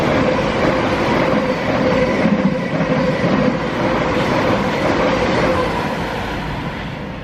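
A passenger train on the East Coast Main Line heading toward New Barnet station, heard from inside as a loud, continuous rumble and rattle of wheels on track, steady throughout with faint squeals and no talking.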